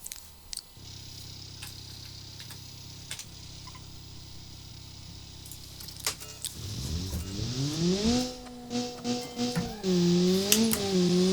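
Engine of a Crown Model 10 Daily Track Sport car with a single exhaust, simulated in BeamNG, idling low and steady before revving up into a rising, wavering drone that swells loud toward the end.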